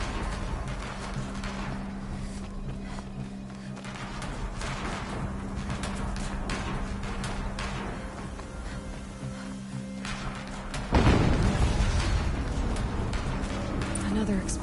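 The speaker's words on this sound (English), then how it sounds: "Another explosion." A sudden loud explosion in Horizon Zero Dawn Remastered bursts out near the end over a dense bed of game music and effects, with a voice talking through the scene.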